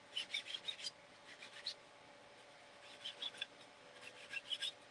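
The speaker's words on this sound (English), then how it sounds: "You can also just take the actual stamp pad and just rub it right over all the little corners and the edges." A stamp pad scrapes and rubs over the corners and edges of craft paper in quick, soft, close strokes, coming in short bursts with pauses between them and no voices.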